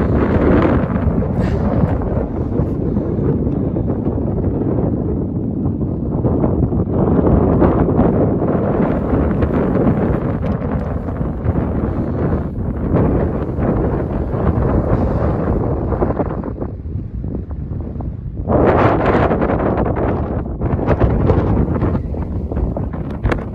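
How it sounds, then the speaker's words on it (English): Strong wind blowing on an Appalachian Trail mountain ridge near the Virginia–West Virginia border, continuous loud buffeting and roaring across the microphone in gusts, with no talking. "It's windy."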